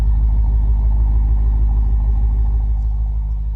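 A BMW M5 Competition fitted with an Akrapovic exhaust idles close by, a deep steady low rumble with a faint mechanical hum above it, no revving and no voices.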